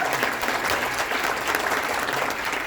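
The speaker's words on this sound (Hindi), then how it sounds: "एक बार उनके लिए जबरदस्त तालियां होनी चाहिए" Steady, enthusiastic clapping from a seated audience at a Vestige business seminar in the Radisson hotel, Dwarka, Delhi, loud and even throughout with no voices over it.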